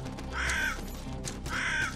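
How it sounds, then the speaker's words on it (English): Loud crows in the video game Salt & Sanctuary give two harsh caws about a second apart, close and prominent over a dense background. "And some loud crows."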